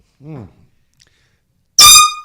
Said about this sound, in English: They get a toot of the air horn